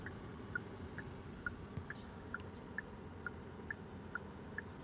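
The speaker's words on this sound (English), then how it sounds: "That is the sound of the turn signals." Turn signal of a 2022 Genesis GV70 3.5T Sport Prestige ticks faintly and evenly, about twice a second, over the low, quiet hum of the idling engine.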